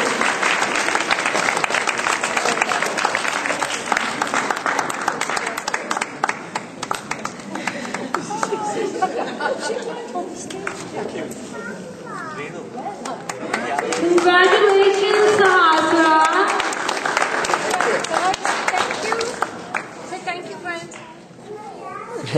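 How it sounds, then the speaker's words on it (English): Applause at a children's prize giving, a sustained round of clapping mixed with children's voices and chatter, swelling and fading while a voice speaks over it later. "Let's hear a huge round of applause for our first place"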